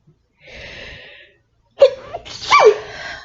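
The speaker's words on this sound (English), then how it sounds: "Sneeze coming." A breathy inhale followed by a single sharp sneeze, close and fairly loud, with no talking around it.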